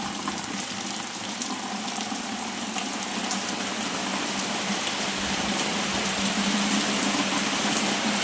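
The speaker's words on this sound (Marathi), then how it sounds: "किती मस्त पाऊस पडतोय बघा." Heavy rain pours down steadily outdoors, a dense, continuous hiss of drops that holds at an even level with no voices.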